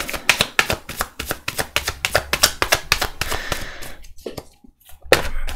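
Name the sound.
tarot cards being handled and turned over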